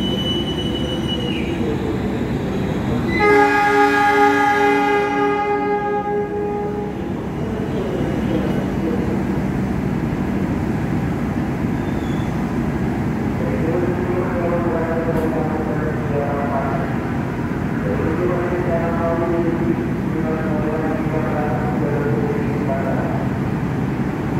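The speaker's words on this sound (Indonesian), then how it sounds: "kereta ini akan melanjutkan perjalanannya menuju tujuan akhir" The Gunung Jati passenger train pulls onward from Bekasi station toward Gambir, a loud horn blast followed by a steady low rumble of rolling wheels and rising motor whine, with squealing rail tones and a voice over the noise.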